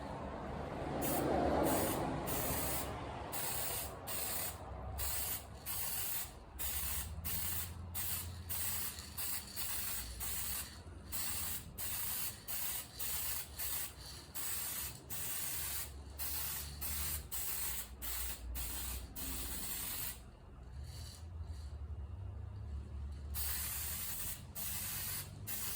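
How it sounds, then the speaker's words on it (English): Copper coat sealant sprayed from a can onto a hanging engine head gasket, a long series of loud hissing bursts separated by short rhythmic gaps, close up and with no voices. "I've got the copper coat, I've got the gasket hanging from this convenient coat hanger, and let's paint it."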